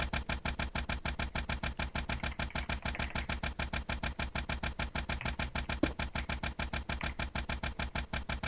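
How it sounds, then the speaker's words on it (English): A steady mechanical tank engine drone in Minecraft with a fast, regular pulsing rhythm, continuous and fairly loud with no voices. "If these engines get too loud for you,"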